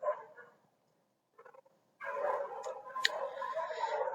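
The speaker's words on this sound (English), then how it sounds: "I hope you're enjoying the ambient sound of my dogs barking in the background" Dogs bark in the background, with a short burst, a pause, then a longer stretch of muffled, overlapping barking at moderate loudness.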